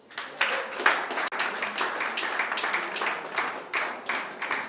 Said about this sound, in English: I want the class to please give them a round of applause